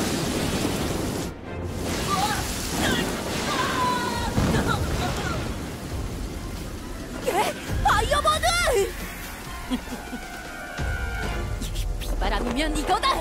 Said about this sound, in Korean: 몰아치는 비바람